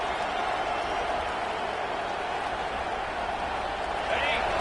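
Steady stadium crowd roar at a college football game in College Football 26. The broad, continuous noise holds at an even level throughout and sits under a commentator's voice.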